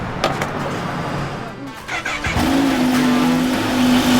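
A new motorcycle engine cranks and catches, then settles into a steady loud idle drone, with people talking and exclaiming around it.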